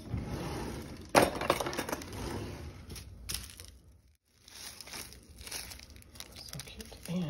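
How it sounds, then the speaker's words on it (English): Candy canes are crushed for hot chocolate, sharp close cracks and crinkling crunches in bursts, loudest early, with a brief lull before more crunching returns, under a speaking voice. "And you need crushed candy canes."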